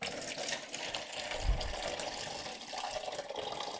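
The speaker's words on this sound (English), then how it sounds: "That noise you hear is my water leaking out of the tank." Continuous soft rushing and trickling of water leaking out of a toilet tank, steady and fairly close, with no talking.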